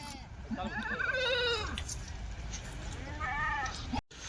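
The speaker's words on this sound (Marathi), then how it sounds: "टॉप क्वालिटी काठेवाडी शेळ्या." A Kathiawari goat lets out a long quavering bleat, followed a bit later by a shorter one, close by over a low outdoor rumble.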